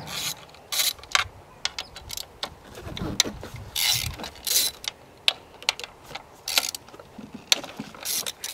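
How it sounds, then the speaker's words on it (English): Scattered clicks, taps and metallic ratcheting as valve cover bolts on a Mercedes OM603 diesel engine are undone with a 10 mm socket ratchet, irregular and close, with short bursts separated by handling noise. "using the socket number 10, I have to undo 1, 2, 3, 4, 5, 6, 7, 8 bolts."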